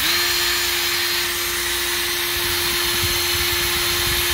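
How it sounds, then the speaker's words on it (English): A power drill spins a mixing paddle inside a bucket, giving a steady, high whine with a constant pitch and a churning, scraping rush underneath, loud and close, with no talking. "I just use my drill here."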